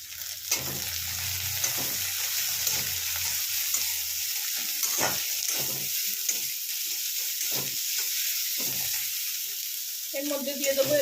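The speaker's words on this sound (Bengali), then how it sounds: "একদম ঝিরে ঝিরে করে কাটা পেঁয়াজ। এগুলো সব এবার হাই ফ্লেমে মেশাতে থাকবো।" Thinly sliced onions fry on high flame and are stirred for chowmein: a steady close sizzle broken by repeated scraping stir strokes, with no talking.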